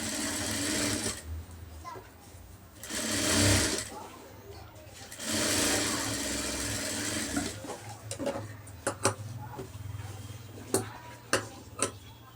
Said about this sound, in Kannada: ಇವಾಗ ಕಿನ್ನರಿ ಸ್ಟಿಚ್ ಹಾಕ್ತಾ ಇದ್ದೀನಿ